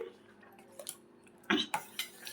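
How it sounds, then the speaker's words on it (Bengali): A spoon stirs powdered milk into a pot of rice with bay leaf and cardamom while making mango payesh, giving a few sharp metallic clinks and scrapes against the pot, close and fairly quiet. "এখানে গুঁড়ো দুধটা গুলে নিচ্ছে।"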